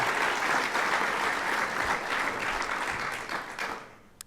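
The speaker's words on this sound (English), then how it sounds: "Let's give them a round of applause." An audience at a university athletic hall of fame induction ceremony applauds loudly and steadily, the clapping filling a large hall before tapering off near the end.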